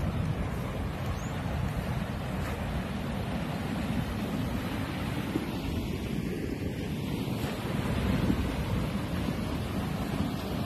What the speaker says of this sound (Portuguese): riacho botando bastante água